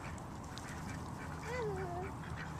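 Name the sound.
duck quacking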